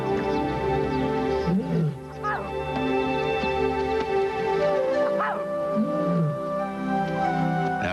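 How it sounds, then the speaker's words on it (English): A lioness calls out for a daughter she lost track of, giving repeated drawn-out moaning roars and grunts at moderate distance, separated by brief pauses. "lioness calls to the daughter she could not find."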